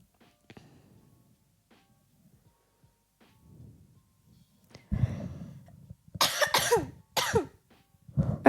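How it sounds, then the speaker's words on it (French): A few quiet sounds, then a burst of harsh, close coughing in several loud bursts toward the end, from a person with a month-long laryngitis cough. "Un mois que tu tousses."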